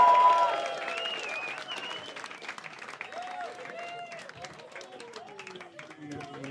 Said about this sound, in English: clap, hoop, holler, and cheer